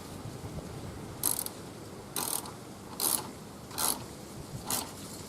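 A hand ratchet snugs down a car battery hold-down clamp in quick bursts, five short clicking runs spaced about a second apart, close and clear over a quiet background.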